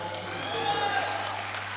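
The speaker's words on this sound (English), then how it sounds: "There's plenty of people getting behind him in the crowd here" A crowd at a junior world classic bench press championship cheers and claps for an 83–120+ kg lifter attempting a world junior record, a steady mass of voices and applause under a commentator's talk, with a constant low hum.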